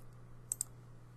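Two quick, light mouse clicks in accounting software, close together and crisp over a steady low hum.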